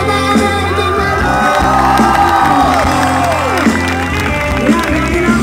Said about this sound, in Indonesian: Mana tepuk tangan untuk mereka?